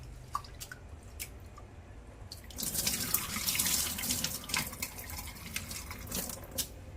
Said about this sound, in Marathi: आता हे तांदूळ आपल्याला स्वच्छ धुवून घ्यायचे आहेत।